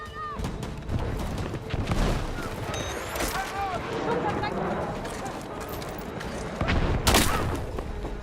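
Gunfire bursts and scattered shots crackle through a Battlefield 6 match, irregular pops and volleys mixed with other game effects, while a person talks over them for much of the time.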